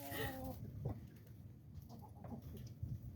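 Chickens from a backyard flock of laying hens and roosters give a brief cluck near the start, then sparse faint clucks and scratchy movement follow over low background noise, heard quietly and at a distance.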